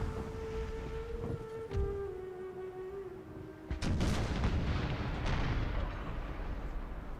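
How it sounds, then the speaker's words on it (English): Naval cannons fire in a Napoleon Total War sea battle, a heavy booming broadside crashing in after a sustained tone, then further rumbling blasts rolling out, with no speech. "So might as well push cannon shots into the arse of this one."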